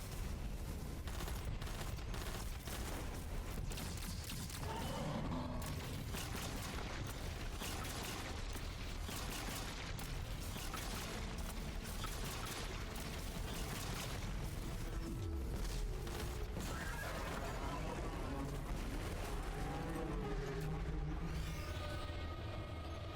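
Dense video game gunfire rattles almost continuously, bursts of rapid shots mixed with heavier booms and explosions, loud and sustained throughout.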